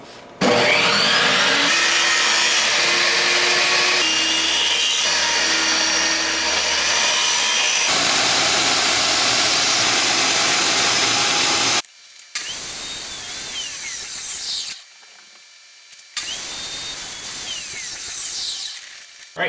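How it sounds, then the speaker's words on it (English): A table saw cuts slices from scrap maple in several loud passes, a steady whining rip broken by short pauses between cuts, close and without talk. "So I'm going to take it to my table saw, cut a few slices, and see where I can get with it."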